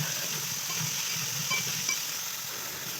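Potatoes and papaya sautéing in a little oil, a soft steady sizzle and hiss close by with faint stirring and occasional light clinks, fairly quiet throughout.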